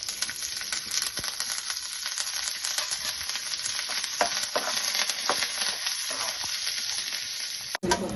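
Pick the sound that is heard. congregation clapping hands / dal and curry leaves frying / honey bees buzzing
dal and curry leaves frying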